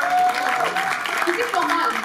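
An audience at a Marathi movie song celebration claps in a dense burst of applause, with voices talking over the clapping throughout.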